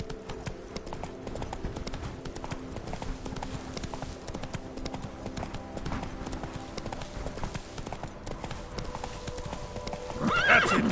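Roach, a horse in The Witcher 3 video game, gallops with steady rapid hoofbeats throughout, and a whinny rises near the end.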